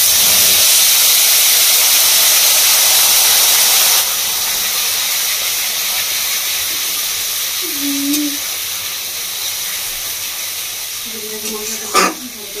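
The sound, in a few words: ground spice paste added to hot oil, sizzling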